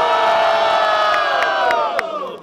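A large crowd at a rap battle cheers and shouts loudly and continuously, a dense roar of many voices with a few sharp claps or whoops near the end.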